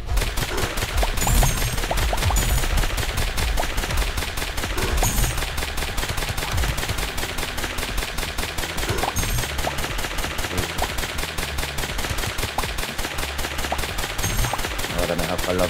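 Rapid automatic gunfire in the Monster Blast demo video game, dense bursts of shots hammering almost continuously at close range with a few louder cracks standing out, loud throughout and with no speech.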